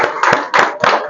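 A group claps in a few rhythmic bursts for a weight-loss winner at a nutrition center's one-year celebration, the clapping close and fairly loud, with no talk.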